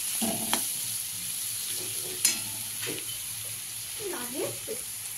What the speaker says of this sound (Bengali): সবজিটা ভাজা হয়ে যাক।